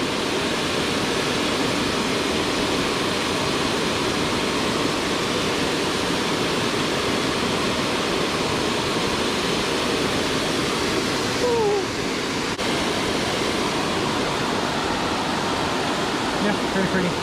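Waterfall on the Big Creek Gulf trail in Savage Gulf, Tennessee, a steady, loud broadband roar of falling water that fills the whole stretch without letup.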